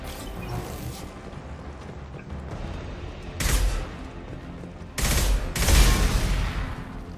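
Mass Effect 2 gunfire: a steady crackle of rapid shots under a game soundtrack, with two louder, denser bursts of firing.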